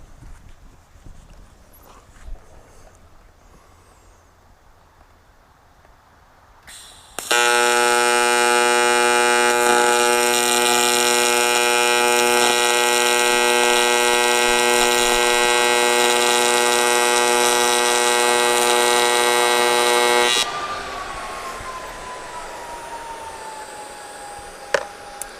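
Welding seat brackets on a 1967 Chevelle gives a loud, steady electric buzz that holds for about thirteen seconds before cutting off, with quieter shop noise before and after.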